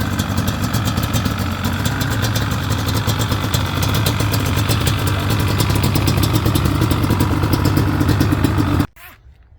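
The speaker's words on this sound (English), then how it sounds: "so done the Banshee. As you just saw, it runs, everything's good." A rebuilt Yamaha Banshee engine runs loud and close with a steady, raspy two-stroke drone, then cuts off abruptly near the end, leaving near silence.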